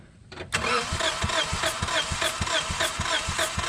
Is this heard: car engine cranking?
yes